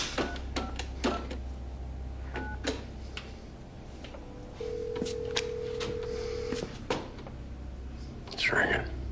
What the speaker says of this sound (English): Now dial this number